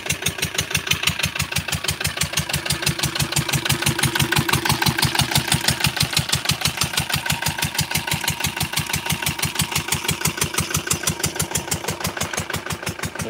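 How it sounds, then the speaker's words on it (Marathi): A small engine drives a crop sprayer pump on a goat and pomegranate farm, chugging in a steady, fast, even rhythm at close range for the whole stretch, loud and alone with no talk. "सध्या आता इंजिनवरती फवार सुरू आहे"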